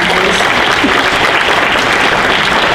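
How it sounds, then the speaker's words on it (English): A banquet crowd at a chamber of commerce dinner claps for the sponsors, a dense, loud, sustained burst of applause filling the room without a break. "So a round of applause for all of our sponsors"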